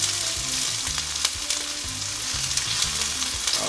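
Onion and scallion sautéing in a pan for a chicken chow mein stir-fry, giving a close, continuous crackling sizzle with light stirring clatter and no voices.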